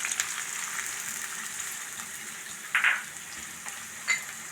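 Chopped onion frying in coconut oil in a pan, a soft steady sizzle with two brief brighter crackles or stirs partway through, no voices.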